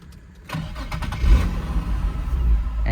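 A Nissan 350Z with a bypassed clutch switch cranks briefly and fires up, its engine catching into a loud, steady idle close by with no talk over it.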